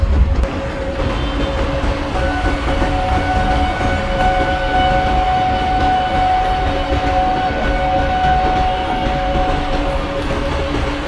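A passenger train runs in the MSTS train simulator game on an Indian route near Kanpur, a loud steady rolling rumble with wheel clatter and sustained tonal hums from the locomotive, continuous throughout.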